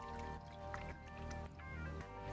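Water poured into a baking dish holding chicken, a soft, quiet trickle and splash close by, with steady background hum underneath.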